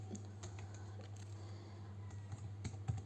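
Soft, steady typing on a computer keyboard while writing Python code, with irregular key clicks over a constant low electrical hum.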